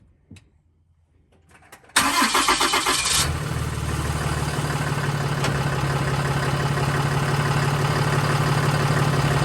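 A 2016 Ram 3500 pickup engine cranks and fires after a quiet start, then settles into a steady, loud idle close by with no talk over it.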